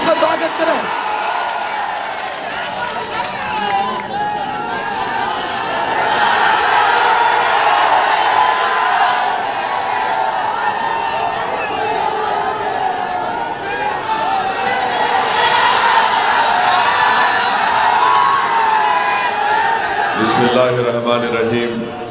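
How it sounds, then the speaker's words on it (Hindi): A large crowd at an election nomination rally in Hyderabad cheers and whoops in sustained, loud waves of noise that last throughout, with a voice speaking near the end. "जोरदार तालियों से बैरिस्टर साहब का स्वागत करें।"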